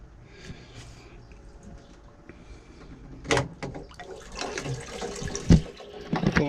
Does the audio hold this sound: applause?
no